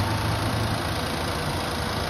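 A 3.3 litre V6 car engine mounted east to west idles quietly and steadily, a smooth continuous hum with light rain in the background.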